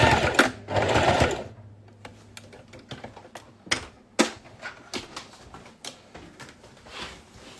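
Domestic sewing machine stitching a backtack on a fabric school pencil case, short bursts of rapid mechanical chattering with a hum, stopping and starting as stitches reverse and go forward, close up, with small handling clicks between.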